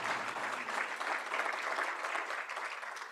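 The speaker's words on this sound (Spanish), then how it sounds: "Les pido nuevamente su aplauso para todos ellos." Steady applause from a conference audience, a dense patter of clapping that holds evenly for a few seconds.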